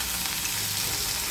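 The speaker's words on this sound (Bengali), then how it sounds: "আমি এই আলুটাকে একটু হালকা একটু নুন দিয়ে ভেজে নিচ্ছি।" Potatoes frying lightly in a pan with a little salt, giving a steady, close sizzle with a soft hiss and no talk over it.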